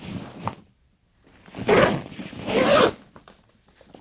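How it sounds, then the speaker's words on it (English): The zips on the main compartment of a tomtoc 40L travel backpack are pulled in two quick rasping strokes, close and crisp, with a little handling rustle before and after. "the main compartment is actually accessed through these zips"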